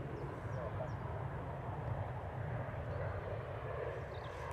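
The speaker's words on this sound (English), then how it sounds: "Nice landing there from the EasyJet" EasyJet airliner landing at Manchester Airport, a steady distant broad jet roar with low rumble sustained throughout, people chatting over it.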